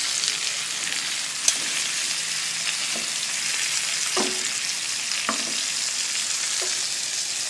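Browned pork sizzles steadily in a cooking pot for pork adobo, a continuous hiss with a few soft clinks of a utensil against the metal scattered through.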